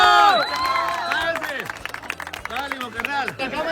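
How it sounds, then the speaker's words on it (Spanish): A live audience breaks into applause and cheering at a spinning money game, a burst of clapping that fades and returns in scattered waves under excited, loud talking. "¡Un aplauso, por favor!"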